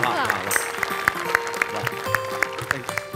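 Applause from a comedy show studio audience, with sharp regular claps standing out over a busy background where voices talk over the clapping.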